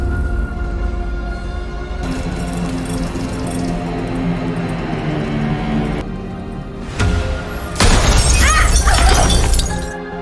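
A lamp shattering into glass shards, loud crashes and breaking glass over a dense dramatic background, with a bright burst of shattering toward the end.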